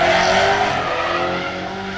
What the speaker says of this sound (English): Sounds like there's a couple of LSs out there, Dawson.